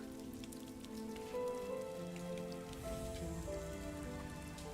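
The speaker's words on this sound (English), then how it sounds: "The water and rain effects are really nice." Steady rain pattering on surfaces in the video game RiME, a continuous close wash of droplets with soft tonal music lines running beneath it throughout.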